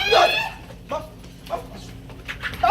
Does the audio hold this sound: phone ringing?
no